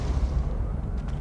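A low, rumbling blast from the Confringo explosive spell in the Hogwarts video game, a sustained boom with faint crackling near its end.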